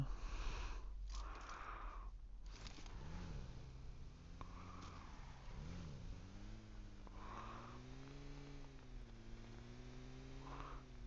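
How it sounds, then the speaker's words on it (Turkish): Car engine idling and revving in the PUBG Mobile video game, a steady low hum with rising and falling pitch sweeps through the second half, alongside sniffing noises near the start. "Yukarıda sanki araba durmuş gibi geldi."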